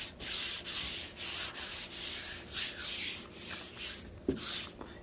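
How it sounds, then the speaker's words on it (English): Sandpaper of 80 grit rubbed by hand across the Bondo-filled body of a Chevrolet Laguna, a steady series of close, rhythmic rasping strokes with brief pauses between them. "What I'm probably going to do is run 80 grit over it."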